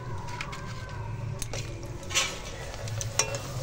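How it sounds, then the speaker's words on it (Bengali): Papad frying in hot oil over a strongly burning stove, a soft continuous sizzle with scattered clinks and scrapes of a utensil against the pan, close and moderately quiet, no talking. "চলো এখন পাঁপড় ভেজে নেবো"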